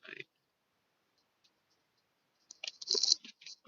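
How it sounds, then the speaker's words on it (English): Tarot cards are shuffled in short bursts of crisp riffling and clicking, a brief flutter at the start, near silence, then a denser, louder run of shuffling near the end. "Let me shuffle this again."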